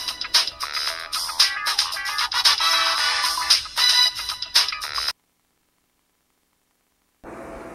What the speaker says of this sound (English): Esther, your phone.